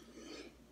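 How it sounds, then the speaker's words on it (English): A single short, fairly quiet cough from a man at a podcast microphone, ending in a sharp burst at the close, with no speech around it. "I'm coughing and sniffing all of a sudden."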